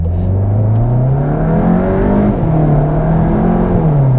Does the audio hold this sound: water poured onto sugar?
no